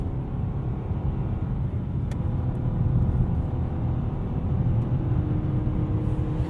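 A 2020 Nissan Sentra SR engine at full throttle, heard from inside the cabin as a steady droning rumble with road noise, sustained and even.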